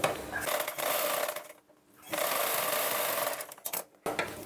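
A sewing machine stitches blouse fabric in close, steady whirring runs, pausing briefly in the middle before resuming, with a short stop near the end.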